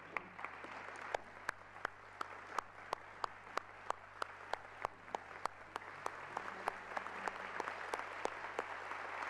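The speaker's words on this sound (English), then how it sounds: "Could they stand up and get a warm round of applause from the audience today?" Warm audience applause at a global peace convention as former Latin American presidents stand, a soft wash of clapping with a few louder, distinct claps close by throughout.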